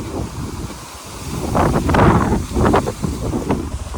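A sailing boat moves under wind, with gusts buffeting the microphone over a steady rush of air and water that swells in the middle and then eases back. No one speaks.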